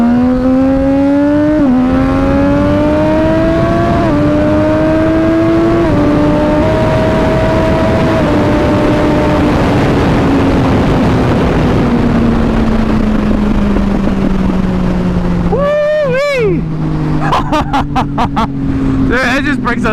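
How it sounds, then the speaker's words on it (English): A 2010 Triumph Daytona 675 motorcycle engine revs loudly and steadily, its pitch climbing and falling between gear changes, then crackles with a quick cluster of exhaust pops and backfires near the end while a rider talks over it. "listen to the pops. Woo, the little backfires."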